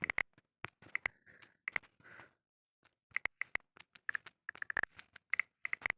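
Typing on a computer keyboard, crisp clicking keystrokes in short irregular bursts separated by pauses, close and fairly quiet with no talking.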